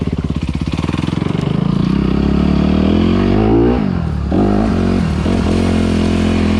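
Motocross bikes race on a dirt track, 250 four-strokes and 125 two-strokes from Honda and Yamaha: a close, loud engine starts with rapid pulsing, then revs hard in rising and falling sweeps, with gear changes and a brief dip near the end.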